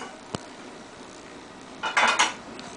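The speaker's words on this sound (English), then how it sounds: "I'm going to take my medium-sized pot." A medium-sized cooking pot handled in a kitchen before boiling eggs: one sharp metallic tap, then a brief cluster of clanking and scraping near the end, close and moderately loud.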